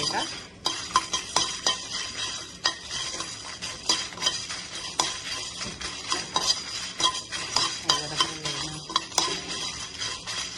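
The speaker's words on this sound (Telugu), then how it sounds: "దానిలో కొంచెం ధనియాలు నాలుగు ఆవ గింజలు వేసానండి ఇవి కూడా కొంచెం ఫ్రై చేస్తున్నాను" Coriander and mustard seeds fry in a pan with a steady faint sizzle, while a spoon scrapes and clinks against the metal in frequent sharp taps throughout.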